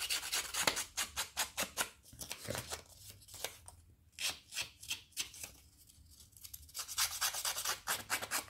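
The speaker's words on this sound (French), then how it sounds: "vais prendre mes ciseaux" Scissors work through scrapbook paper with quick, close rasping cuts in bursts, a faint papery rhythm that pauses briefly and then resumes.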